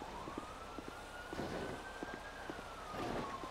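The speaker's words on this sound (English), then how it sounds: "Hear more sirens." A siren in a video game wails with a slow rising and falling tone, quiet and distant, under a low rumbling background.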